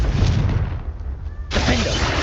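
A Confringo spell blast in the Hogwarts Legacy video game: loud booming explosive bursts with dense rumbling noise, a brief dip in the middle, then a renewed sharp burst, with no talk.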